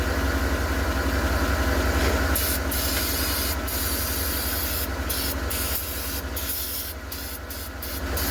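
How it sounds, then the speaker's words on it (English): A continuous hiss of brake cleaner sprayed on the underside of a 2014 Yukon XL over its idling engine's low rumble, the spraying steady and close. "spray it with some brake cleaner before this exhaust gets hot"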